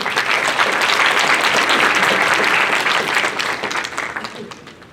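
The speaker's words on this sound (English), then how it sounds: "All right, another round of applause for Team 1." Audience applause for a student team's city presentation at a summer STEP Learning Labs awards event, steady and full for about four seconds before tapering off at the end.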